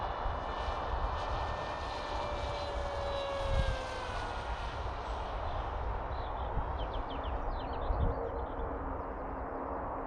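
A steady, droning engine of a small Sipa 200 model airplane coming in to land, fairly distant, with a shifting pitch as it descends, and faint birdsong in the background.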